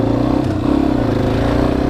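A Yamaha XT250 motorcycle under way, a close, steady single-cylinder engine drone with rapid pulsing and faint rattles, continuous through the short stretch with no talk.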